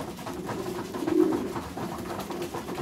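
Pigeons in a loft cooing softly, with a low, steady murmur and one brief louder coo midway; any pecking is not clearly distinct, and no one speaks.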